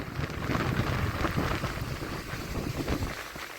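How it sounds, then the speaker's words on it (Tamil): Strong storm wind gusting in Jaffna, a steady roaring rush buffeting the microphone with rising and falling surges, loud and continuous with no voices. "கொஞ்சம் பயமாக தான் கிடக்குது பாருங்க வந்து காற்று எப்படி அடிக்குது"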